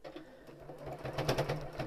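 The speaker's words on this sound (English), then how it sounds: "And just sew it straight down on the edge." Stitching along a folded fabric edge, a sewing machine gives a quiet, fast rhythmic chatter that runs continuously through the short stretch.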